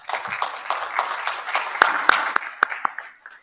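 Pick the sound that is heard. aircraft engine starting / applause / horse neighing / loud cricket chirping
applause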